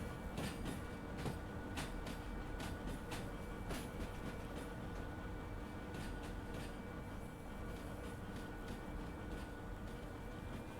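A train locomotive in the video game Derail Valley runs with a steady, low rumbling drone and a regular clicking of wheels on rails, continuous and fairly quiet throughout, with no voices.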